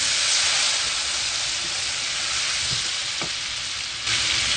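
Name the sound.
boiled potatoes frying with turmeric and salt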